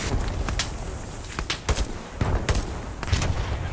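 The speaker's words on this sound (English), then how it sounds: "Taking a lot of small arms fire right now, though." Small arms fire crackles across a World War II battlefield at Foy in Hell Let Loose: scattered rifle and machine-gun shots, some near and some distant, over a steady low battle rumble.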